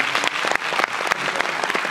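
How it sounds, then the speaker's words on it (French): A theatre audience at a film screening claps for the film's actors, a dense, steady burst of applause filling the room with sharp individual claps standing out, no voices on top. "si on peut les applaudir d'abord,"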